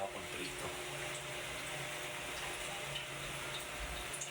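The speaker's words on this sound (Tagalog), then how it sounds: "magpainit tayo ng mantika para ready na sa pagprito" Cooking oil heating in a pan before frying drumstick chicken, a steady faint hiss and crackle that stays even throughout, with no voices.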